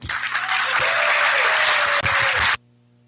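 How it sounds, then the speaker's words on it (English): Applause at a Providence school board meeting: a sustained, loud round of clapping from the audience for about two and a half seconds, then it cuts off abruptly. "Can we please give a round of applause to Miss Ariana Testa?"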